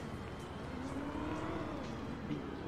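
Car engine in the video game GTA, a steady muffled drone with a faint rising and falling pitch, heard at a distance with no clear speech over it.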